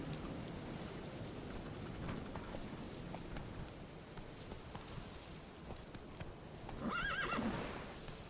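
Roach, the horse in a Witcher game, trotting with steady, moderately close hoof clops over rain-like ambience, then a loud, clear whinny near the end.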